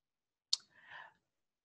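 A single crisp computer mouse click sounds close and alone in a quiet room, followed by a brief, faint rustle.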